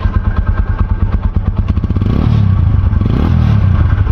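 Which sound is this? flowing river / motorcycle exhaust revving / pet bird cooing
motorcycle exhaust revving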